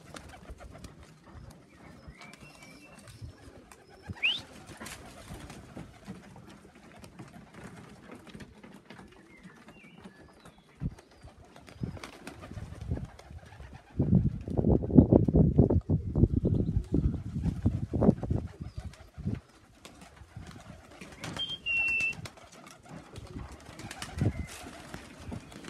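Pigeons coo softly near and far while a burst of wing flapping and fluttering swells in the middle as the birds take off, then fades back to scattered calls.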